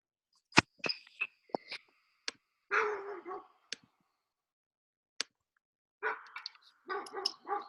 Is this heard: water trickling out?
no